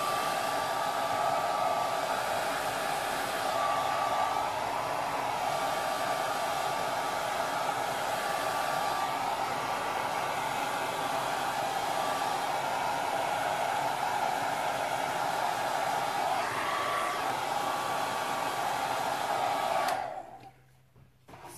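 A hair dryer blows steadily for about twenty seconds to drive excess moisture off a resin art compound. It keeps up a loud, even whoosh at close range, then cuts off abruptly near the end with no talking.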